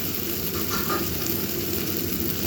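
Food sizzles and fries steadily in a hot pan while it is stirred, with a continuous close crackle and faint scraping during the making of restaurant-style onthon.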